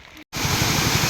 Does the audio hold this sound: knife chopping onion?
no